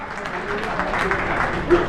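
Steady applause from an audience at a ceremony and poetry gathering, a dense wash of clapping with a voice faintly mixed in.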